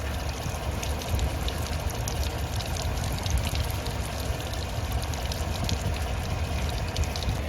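Washer fluid drains out of the reservoir of a Chevrolet Tahoe/Suburban after the pump is pulled, a steady continuous pouring and trickling stream close by with no talk.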